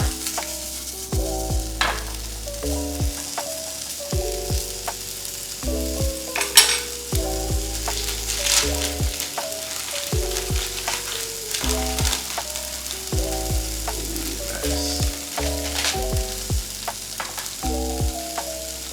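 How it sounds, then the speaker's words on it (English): Spam fries in a hot pan with no oil added, giving a steady crackling sizzle. Backing music plays over it and fairly loud at close range, and no one speaks. "Now we're gonna throw in the spam."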